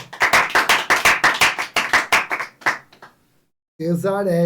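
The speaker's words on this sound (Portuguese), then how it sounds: "Todo mundo uma salva de palmas para Inajara." A small group claps in rhythmic, fairly close bursts for a correct answer in a Bible study class, the clapping thinning out and stopping, then a voice speaks after a short pause.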